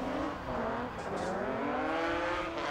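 A nitrous-fed 3.2-litre BMW M3 compact of about 300 horsepower revs hard at a drift competition, its engine note climbing and wavering in pitch, then rising steadily as it launches, fairly loud and without voices.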